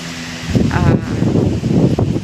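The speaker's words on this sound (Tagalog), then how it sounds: "Yung pinaka-worst lang is ang lakas ng hangin." Super typhoon Nando's strong wind roars and buffets the microphone in rough gusts, a loud, continuous rushing with no voices.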